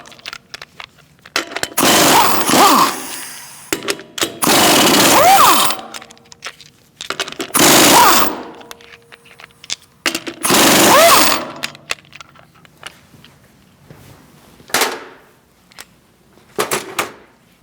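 An impact gun spins lug nuts off the front wheel of a 2016–2019 Chevrolet Cruze 1.4L, sounding as loud, buzzing bursts of one to two seconds, four longer runs and then a few short blips, with quiet gaps between.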